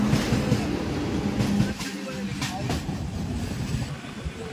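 A local train from Howrah rolls into Digha station with a steady rumble and faint wheel clatter. A voice is talking over the running noise inside the carriage.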